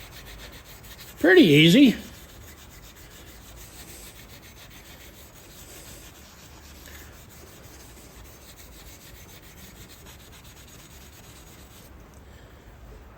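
Steel wool scrubbing surface rust off metal in a workshop, a short, close rasping rub lasting about a second, followed by quiet room tone, with someone speaking briefly.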